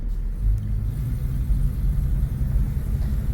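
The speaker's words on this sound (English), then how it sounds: "Let's take it for a little test drive." A 1970 Chevelle with a two-speed Powerglide automatic and manual brakes rolls along on a test drive, its engine a steady low rumble heard from inside the car with a slight swell as it pulls.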